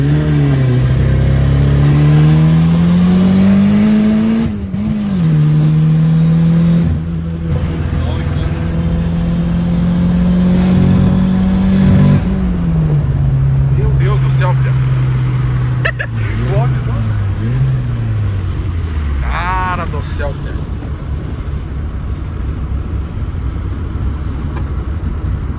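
Volkswagen Parati GL turbo car accelerating hard, its engine revving loudly with strong rising and falling pitch sweeps, heard from inside the car while people talk over the engine throughout.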